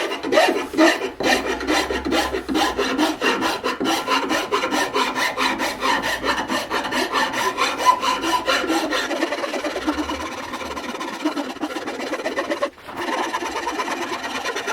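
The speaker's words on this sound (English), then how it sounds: "And then we can take our cabinet rasp" A cabinet rasp shapes a wooden axe handle in steady, rapid back-and-forth scraping strokes, close and continuous throughout, with no talking.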